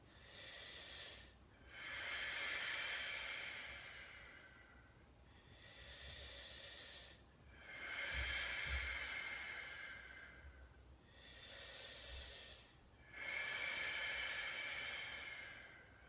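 Slow, deep breathing held in a square-hipped hip stretch for splits: long airy inhales and exhales in a steady cycle of about five seconds each, close and soft, with no talking.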